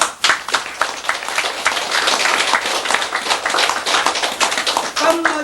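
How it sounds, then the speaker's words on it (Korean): A crowd at a Buddhist dharma talk claps loudly and steadily, with dense, overlapping handclaps sharp and close, and a voice breaking in near the end. "박수 좀 쳐"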